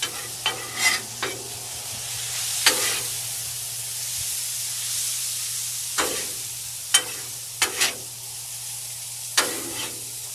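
Pepperoni slices sizzling on a Blackstone griddle, a steady hissing fry broken by sharp spatula scrapes and taps every second or two, loud and close with no talking.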